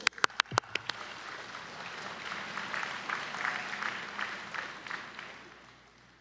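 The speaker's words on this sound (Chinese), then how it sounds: "现在，让我们用最热烈的掌声，欢迎侨胞代表吴光仪咨询委员的致辞。" At a National Day ceremony, a few sharp claps lead into swelling applause from a large audience welcoming an overseas Chinese representative, a broad rolling crowd clapping that builds and then tapers off.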